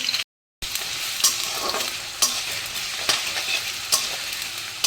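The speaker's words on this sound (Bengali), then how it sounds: "আলুগুলো দিয়ে আলুগুলো প্রথমে ভেজে নিচ্ছি" Potatoes frying in hot mustard oil, a steady crackling sizzle with repeated sharp bursts as the pieces are stirred, close and continuous apart from a brief cut near the start.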